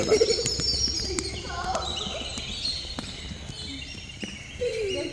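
Birds call and coo in a temple courtyard. The calls come from moderately near and are scattered through a quiet outdoor ambience, with a few faint knocks in between.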